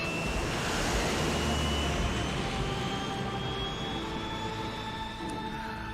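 An airplane in the video game Metal Gear Solid 3 flies with a dense, continuous engine roar and broad wind-like rush, steady and loud throughout with a slight fade near the end.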